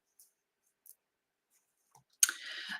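Tarot cards shuffled by hand: a few faint, sparse taps, then a sudden close, dense riffling burst that runs steadily to the end.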